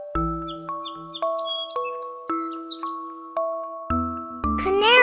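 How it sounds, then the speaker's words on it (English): Bird chirps and tweets from a sparrow, a series of short high calls over a repeating chiming melody with a few low thumps. "Sparrow."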